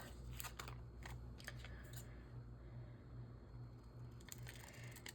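Scissors snipping through a flap on a glassine baggie, a few quick crisp cuts over a steady low hum, close and fairly quiet.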